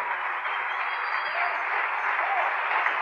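Church congregation applauding for the Lord during a Spanish-language sermon, a steady dense wash of clapping held at even loudness for a few seconds with no break.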